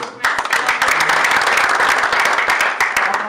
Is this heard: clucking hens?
no